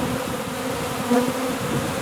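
A dense swarm of bees buzzes around a colony living inside an old gas tank, forming a continuous droning hum with individual insects passing close by, with no talking.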